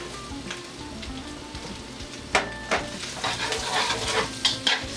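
Peppers and onions hitting hot oil in a pan for pepper steak, a steady sizzle that swells as a spatula scrapes and stirs with several distinct clanks.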